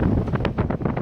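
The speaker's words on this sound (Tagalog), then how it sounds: "kita nyo malakas na yung hangin" Strong wind buffets the microphone in loud, gusty rumbles with irregular low-frequency thumps throughout the short stretch, with no other sound clearly audible.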